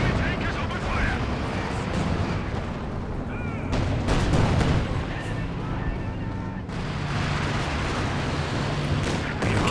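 Howitzer artillery fire in the Company of Heroes 2 strategy game, heard as repeated booming shots and rumbling explosions in a dense, continuous battle din, with a commentator talking over it.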